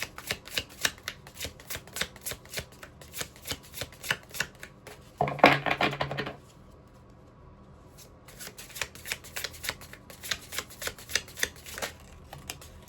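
Tarot cards are shuffled in steady, rapid riffling bursts, with a louder flurry in the middle and quieter pauses on either side. The sound is close and continuous, and nobody speaks.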